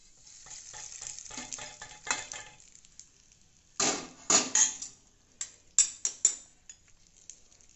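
Liquid being poured into a drumstick leaf thuvaiyal in a pan, giving soft crackling sizzles and scraping stirs, then several sharp, louder bursts of spattering sizzle with quiet gaps between them.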